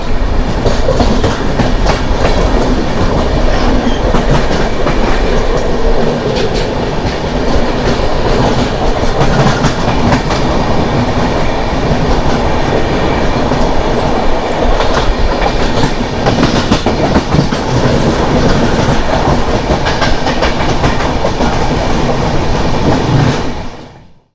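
Howrah Ahmedabad Superfast Express 12834 passing a station at Rajgangpur, Odisha, a loud continuous roar with rapid clickety-clack of wheels over rail joints, steady throughout before cutting off at the end.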